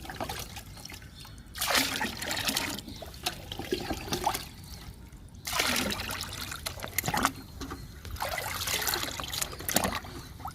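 Liquid fertilizer made from oats and kitchen waste pours into a container in uneven bursts of trickling and splashing, separated by brief pauses.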